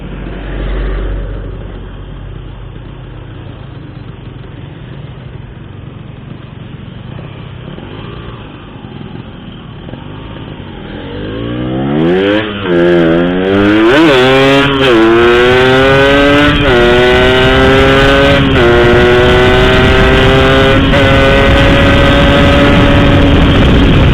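A motorcycle fitted with an Altech C17 exhaust rides along at a steady low drone, then revs up hard with rising and falling engine sweeps, growing loud and close.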